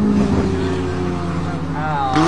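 Race car engine in a Toyota versus 2009 Dodge Challenger race, a loud droning tone that drops as the throttle is released, then briefly rises again, heard under excited talk.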